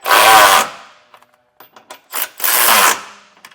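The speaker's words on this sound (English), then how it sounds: "you can just come back with a 3/4 inch socket and tighten them the rest of the way" Bolts on a Blue Ox trailer hitch under a 2016 Chevrolet Traverse are tightened with a 3/4 inch socket. Two loud, harsh bursts of mechanical whirring and rattling sound up close, with a few small clicks and knocks between them.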